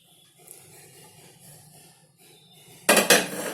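Potato curry is transferred into a bowl after a lid is opened, with faint scraping and handling noises followed by two loud clattering clinks of a utensil against the dish near the end.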